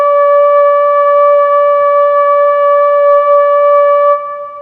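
Synthesizer patch with a pulse wave oscillator softened by a filter holds one steady, bright harmonic tone for about four seconds before it fades out, loud and alone.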